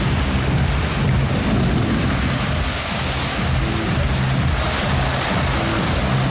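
Water runs loudly at an amusement park ride at Fantasy Island, Skegness, as a constant rushing wash, with wind buffeting the microphone throughout.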